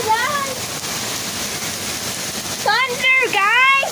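Hail and rain pour steadily onto a grassy lawn during a thunderstorm, a continuous loud hiss and patter, with excited voices talking over it near the end.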